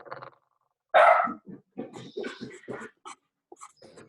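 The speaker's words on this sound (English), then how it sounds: "That's my dog." A dog barking indoors in a classroom, with one loud bark followed by a run of quieter barks and growly yaps, fairly close and uneven in rhythm.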